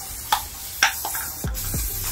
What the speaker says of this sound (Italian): gli do una bella pulita con lo spray X-Forte